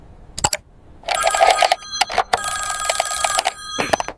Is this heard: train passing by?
no